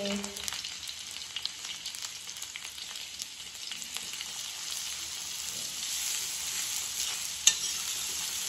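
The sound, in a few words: chopped onions frying in pan for noodles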